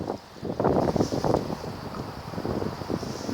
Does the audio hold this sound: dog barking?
no